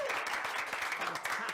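Audience at a student leadership race results show applauding students' union staff, a short, steady patter of clapping with faint voices underneath.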